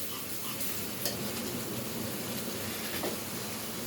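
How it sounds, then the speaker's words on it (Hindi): Chicken meat fries in a pan with a dense, even crackling sizzle, close and steady, with a couple of faint utensil clinks and no voices. "तो मैं इसमें चिकन का गोश्त डालूंगी।"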